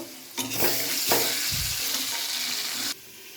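Potato pieces with salt and turmeric stirred in a hot pan, a loud frying sizzle with scraping stirs that stops abruptly near the end.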